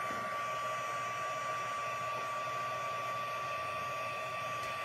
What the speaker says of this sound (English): pardon my heat tool